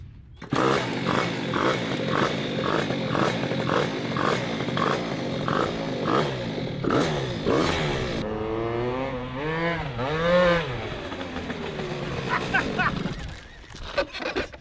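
A modified AliExpress race moped with a silencer bolted onto its altered exhaust buzzes loudly and steadily up close, then the engine note wavers and sweeps through rising and falling revs before fading near the end.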